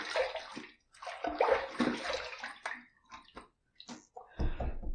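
Splashing water as a face is rinsed after a wet shave, with bursts of close, loud sloshing and dripping separated by short pauses, no talk.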